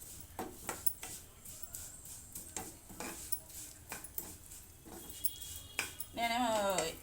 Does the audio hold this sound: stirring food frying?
yes